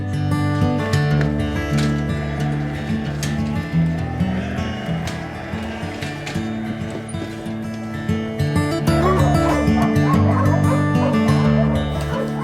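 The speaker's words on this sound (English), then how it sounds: "These are Farmer John's sheepdogs, and they make sheep work a lot easier, that's for sure." Sheepdogs on a sheep farm bark repeatedly and loudly with excited yips and some whimpering. The barking layers over itself and comes and goes across the whole stretch, with no talking.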